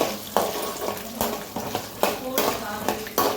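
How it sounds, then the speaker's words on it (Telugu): Peanuts and chana dal fry in a pan for lemon rice, with repeated close scraping stirs every half second or so over a continuous light sizzle. "వేరుశనగపప్పు, శనగబేడలు ఇవన్నీ వేసుకొని బాగా ఫ్రై చేసుకోవాలి"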